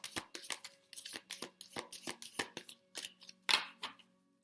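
Moonology oracle cards riffled and flicked in a quick run of crisp papery bursts, about a dozen close strokes with no voices, ending in a brief louder snap.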